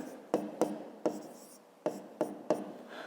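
A pen writes in a maths exercise book in quick separate strokes, about seven sharp scratches spaced unevenly, close and quiet against a still room.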